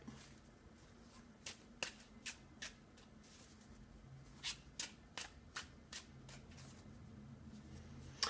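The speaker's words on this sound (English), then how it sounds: "continue to shuffle for a bit more until I feel the deck is ready" Tarot cards riffle and tap in a loose series of quick, crisp flicks, close and fairly soft over a quiet background hum.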